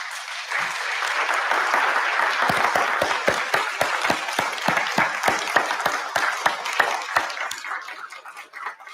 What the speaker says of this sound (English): I ask my new lawyers to turn around and you clap for the people that supported and got you here.